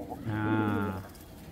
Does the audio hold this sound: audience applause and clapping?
no